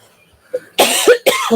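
A couple of harsh, close coughs burst out loudly in quick succession after a faint breathy sound, with a brief gap between them.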